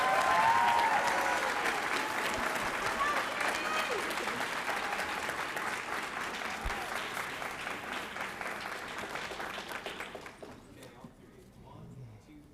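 A crowd at a school board meeting applauds steadily for several seconds, loud at first and gradually thinning out before fading to quiet at the end.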